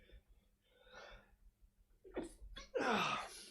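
A video game character sneezes: a few quick, halting inhales build up to a single loud, forceful sneeze, close and sharp, against near silence.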